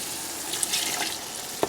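Chicken biryani gravy, thinned with water from the cooked chicken, fries in a pan with a brief, steady close-up sizzle and a few small pops.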